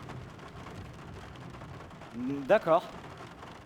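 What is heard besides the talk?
heavy rain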